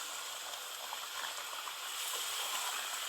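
Steady rushing, splashing water as boiled water from a kettle is poured into a pot, continuous and fairly even for a few seconds with no talking.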